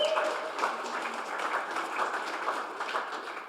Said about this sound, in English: Round of applause for Jesse.